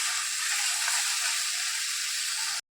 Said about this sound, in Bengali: এখানে জিরে গুঁড়ো, হলুদ গুঁড়ো, ধনে গুঁড়ো, আর এদিকে সামান্য পরিমাণে নুন সমস্ত কিছু দিয়ে পরে ভালো করে নাড়াচাড়া করব